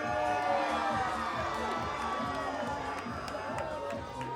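Crowd at a wrestling show in Thunder Bay with children present, a steady roar of cheering and shouting that fills the whole stretch without letup.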